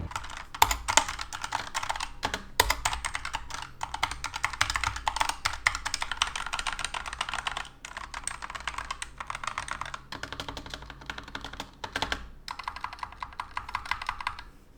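Fast typing on a Bloody B950 mechanical keyboard, crisp clacking keystrokes in rapid bursts with short pauses, close up and alone.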